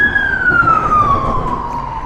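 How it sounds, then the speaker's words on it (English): A police car siren wails through the street, one long sweeping tone that slides downward as the vehicle passes by, loud and fairly near over a low road rumble. "that police car going by is an example"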